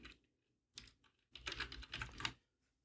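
Bursts of computer keyboard typing, close and fairly quiet, with several quick clustered runs of keystrokes separated by short pauses while an exam number is keyed in for a mail merge exercise.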